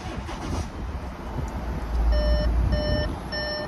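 An Audi Q5 S Line TDI quattro sounds its door-open warning with three evenly spaced electronic beeps. The tones are clear and steady over a low engine idle, and no one speaks.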